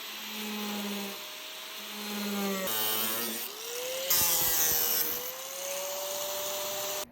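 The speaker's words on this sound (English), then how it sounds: "I'm going to cut out the area for the gas cap." A power tool cuts into a ute's steel driver's side bedside to open the gas cap area, its loud whining pitch rising and falling as the blade loads and frees through several passes.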